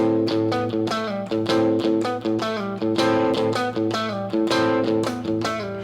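An electric guitar plays a quick repeating rock lick from a song, bright picked notes with bends, loud and close with no voices.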